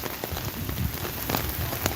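Steady rain falls outdoors at a rally beside a church, a dense, even patter with scattered sharper drops hitting nearby surfaces throughout.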